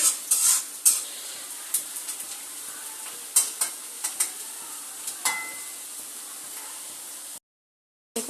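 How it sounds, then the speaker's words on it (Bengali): Onions frying in oil in a pan, a continuous sizzle broken by stirring scrapes and utensil clicks, ending in a brief silence. "পেঁয়াজটা কিন্তু ভাজা হয়ে গেছে"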